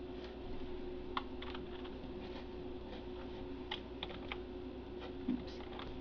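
Keys tapped on a computer keyboard while a command is typed into an online text adventure, a short run of soft, fairly quiet clicks over a steady fan-like hum.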